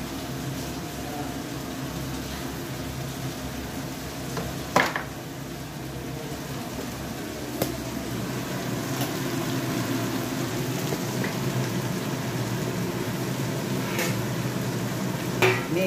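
Food fries in a covered pan over a lowered gas flame, giving a soft, steady sizzle that runs the whole time, broken by a few brief clicks and clinks of kitchenware.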